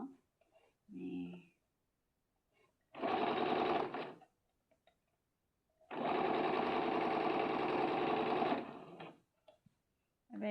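A sewing machine stitches a hem in two loud bursts: a short run of about a second, then a longer steady whir of almost three seconds. A voice speaks quietly in the gaps.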